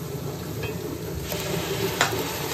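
Tomato puree cooks with fried onions in a pan, making a continuous close sizzle with soft stirring scrapes and one brief clink near the end.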